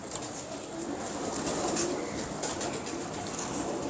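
Soft pigeon cooing in the low range, repeated a few times over a steady hiss of background noise, with no one speaking.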